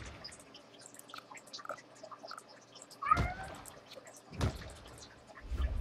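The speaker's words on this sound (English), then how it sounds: "There's my cat." Pet cat meowing indoors, a short, clear meow rising over a quiet room tone with faint ticking and soft thumps around it.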